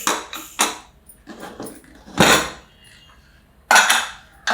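Metal pressure cooker lid coming off after cooking dal: a few sharp clanks and scrapes of metal on metal, with one loud hissing clatter in the middle and another near the end, close by in a kitchen.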